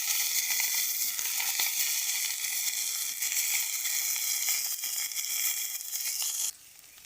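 Chunks of papaya and pointed gourd fry lightly in hot oil, giving a loud, steady, dense sizzle that holds without a break, then drops sharply to a quieter hiss near the end.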